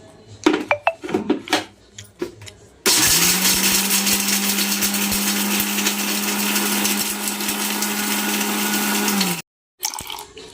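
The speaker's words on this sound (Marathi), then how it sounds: "काजू बारीक करून घेऊया आपण." A mixer grinder grinds cashews into a paste for a matar paneer recipe. After some clattering of the jar and lid, the motor roars into a loud, steady whir for about six seconds, then cuts off abruptly, followed by a brief clink.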